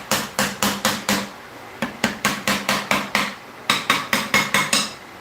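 An Icon hammer striking repeatedly in a home shop, sharp metallic blows in quick even bursts of four to six with brief pauses between runs, close and loud with no talking.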